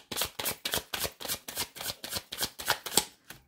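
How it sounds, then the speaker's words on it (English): Tarot cards are shuffled by hand in a steady run of about a dozen crisp, evenly spaced riffling bursts, loud and close, with no talking. "One more shuffle."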